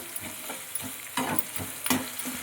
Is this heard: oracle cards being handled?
no